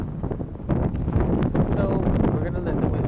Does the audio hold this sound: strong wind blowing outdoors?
yes